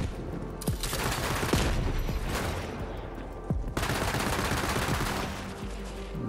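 Rapid weapon fire from Borderlands 3: loud, dense bursts of gunshots repeat across the scene, briefly broken by a short pause before the shooting resumes.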